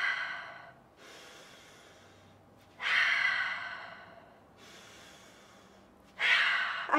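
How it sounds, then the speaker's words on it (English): A child takes three big, slow deep breaths, each a loud breathy exhale rushing in after a quieter pause, close to the microphone. "I can hear your breath, that sounds so good."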